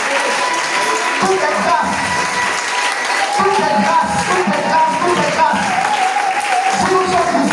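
A church congregation applauds and acclaims Jesus Christ, with sustained clapping and crowd cheering filling the room, and a voice speaking over the noise.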